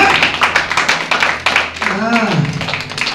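A church congregation claps in rapid bursts during a Sunday sermon, sharp claps scattered through the moment while a preacher speaks over them.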